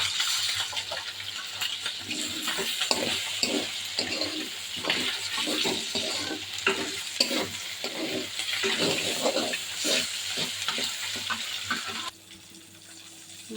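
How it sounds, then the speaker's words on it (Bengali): Hilsa fish frying in a pan gives a steady, close sizzle with rhythmic bursts of stirring or scraping throughout, then drops to a quieter hiss near the end. "এই পাশে ইলিশ মাছ ভাজতে দিয়ে দিয়েছি"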